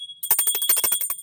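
A small tarot bell rings in a rapid run of bright, metallic strikes, each a sharp jingling hit with shimmering high overtones, close and clear.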